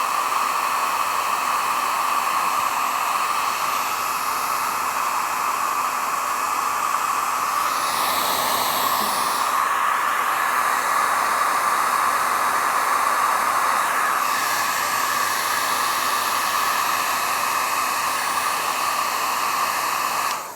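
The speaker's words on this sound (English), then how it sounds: "I'll have to just quickly blast that with a hairdryer" A hairdryer blows over wet watercolour paint, giving a loud, continuous whooshing hiss with a steady motor hum that shifts slightly in pitch as it is moved around.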